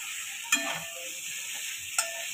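Potatoes stirred in a pan with salt and turmeric, a soft constant sizzle with two sharp spatula taps against the pan about one and a half seconds apart, faint scraping between them.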